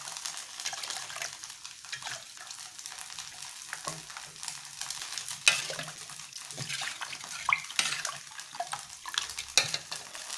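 Water poured from a bowl into rava dosa batter, a continuous close splashing and trickling with small gurgles and bursts, no talking.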